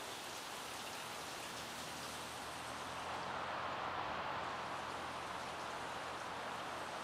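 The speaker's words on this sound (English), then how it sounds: "And it sounds like it's raining out there." Rain falling in The Sims 3 video game, a soft, continuous hiss of steady rainfall, faint and unbroken with no distinct drops standing out.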